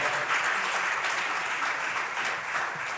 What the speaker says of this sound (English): Please keep the applause coming.